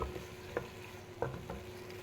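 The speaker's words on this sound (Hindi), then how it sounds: "अब इस टाइम पे हम इसमें कोफ्ते ऐड कर देंगे।" Koftas are stirred into a simmering gravy in a pan with masala, with a low, steady sizzle and a few soft scraping knocks of a spoon against the pan.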